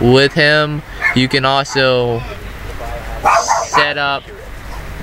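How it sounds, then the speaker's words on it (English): A pet dog barks in sharp, loud bursts, several clustered yaps with a short pause then more, mixed with someone talking about a video game. "that was my dog, sorry for that."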